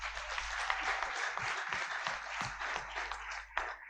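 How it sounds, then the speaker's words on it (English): An audience at a content moderation symposium claps for the panelists, a fairly quiet but continuous patter of many hands with a few louder individual claps standing out near the middle and end. "So please protect me from lawsuits through Christmas by clapping for my amazing panelists."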